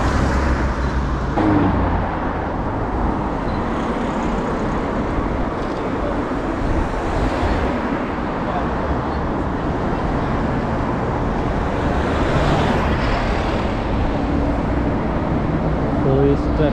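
Steady road traffic on a busy street in Leicester, a continuous dense wash of passing cars and engine rumble filling the scene at constant loudness, with people talking faintly underneath.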